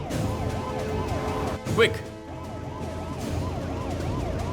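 An ambulance siren wails in a repeating rising-falling pattern amid road traffic in a dubbed action movie scene, steady and fairly close, with a brief spoken word and a short noise burst partway through.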